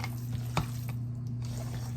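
Embutido meat mixture being mixed by hand in a home kitchen, a soft, steady stirring and squishing under a constant low hum, with one brief louder handling knock.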